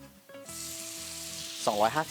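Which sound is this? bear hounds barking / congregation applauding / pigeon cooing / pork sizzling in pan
pork sizzling in pan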